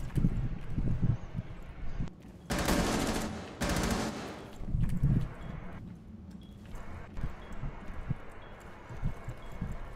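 Bursts of rapid automatic gunfire in a tactical shooter video game, sustained rattling volleys around the two- and four-second marks with quieter shots and movement between, loud and close.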